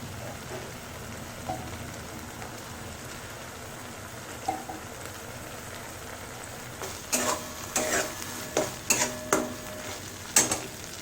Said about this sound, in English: let the paste be fried nicely